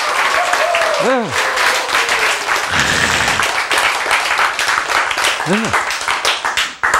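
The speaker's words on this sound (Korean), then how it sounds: "웃고 박수 치고 있으면 된다니까요" A church audience claps steadily and loudly throughout, with a voice speaking briefly over the applause.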